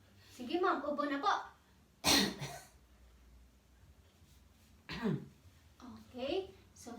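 A patient gives a few short coughs between stretches of quiet talk during chest physiotherapy, in a calm indoor setting.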